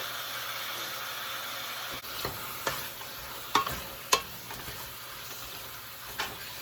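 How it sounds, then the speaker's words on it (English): Sausage and ground beef for a Bolognese brown in a pan with a steady, even sizzle, broken by a few sharp pops and scrapes from stirring, close up and with no talking. "now that our sausage, our meat is pretty well browned on the outside"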